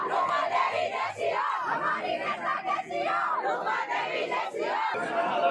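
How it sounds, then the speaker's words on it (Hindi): A crowd of women chants slogans loudly at a municipal council election nomination in Sujangarh, their voices massed in a rhythmic, continuous roar close by. "जोरदार नारेबाजी महिलाएं कर रही है।"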